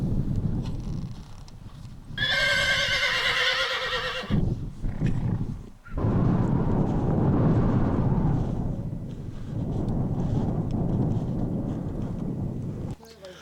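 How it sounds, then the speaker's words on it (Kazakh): A herd of horses driven in behind a bay stallion gives a loud, ringing whinny lasting about two seconds, followed by a steady wash of hooves and movement with voices mixed in. "6 сағаттан кейін олар күрең айғырдың үйірін айдап келді"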